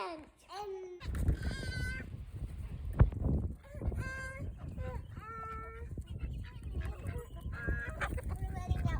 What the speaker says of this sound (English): We're letting out all the chickens.